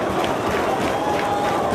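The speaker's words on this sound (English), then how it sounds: "I can't hear over this crowd" A packed wrestling crowd at a 2004 ROH match between CM Punk and Samoa Joe keeps up a loud, continuous, undifferentiated roar with no single voice standing out.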